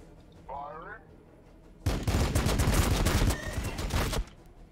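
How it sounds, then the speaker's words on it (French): Double assault cannon in the Warhammer 40k BattleSector video game firing a dense, loud burst of rapid shots for about two seconds, preceded by brief talk. "Et là, une deuxième arme, un double canon d'assaut."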